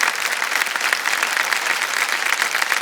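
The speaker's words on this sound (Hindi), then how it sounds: "तालियों के साथ इनका अभिनंदन।" Dense, loud applause from the studio audience of the KBC Season 13 game show, a continuous wash of many hands clapping for a contestant who has just won 50 lakh rupees.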